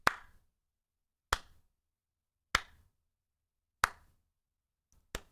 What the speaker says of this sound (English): a slow clap coming from the other room